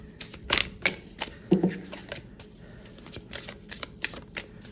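Oracle cards are shuffled by hand in quick bursts of crisp riffling and flicking, close up and fairly loud, with short pauses between bursts and no talk.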